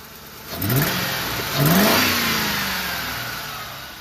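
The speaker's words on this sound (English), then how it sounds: "It's running, so let's give it a little bit of gas." A 2004 Ford Crown Victoria Police Interceptor engine idles and then revs twice, the pitch climbing sharply each time before settling back, heard close and clear with no talking.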